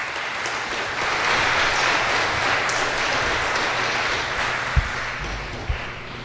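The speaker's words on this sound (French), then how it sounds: "Je trouve que ces applaudissements sont maigres." Audience applause at a French-language evangelical church sermon, steady moderate clapping from the congregation lasting several seconds, with a couple of soft thumps near the end.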